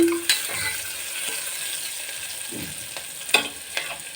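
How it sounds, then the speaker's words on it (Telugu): Onions fry in a pan for a drumstick and tomato curry while a spoon stirs them. A steady close sizzle carries a few sharp scraping clinks of the utensil against the pan. "ఆనియన్స్ అయితే ఫ్రై చేసుకోవాలి బాగా"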